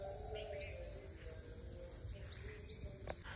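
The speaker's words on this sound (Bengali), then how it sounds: "একটা পাখির শব্দ শুনতে পাচ্ছি একটু পর পর" Faint bird calls repeat every second or so in an eco park in Bangladesh, short rising chirps over a steady hum of insects and distant ambient noise.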